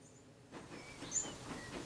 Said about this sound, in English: Alright, hear the train.